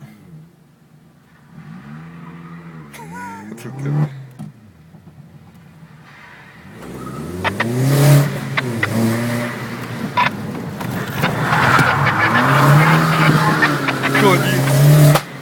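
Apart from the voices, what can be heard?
cars driving past at a car club meet at Lake Garda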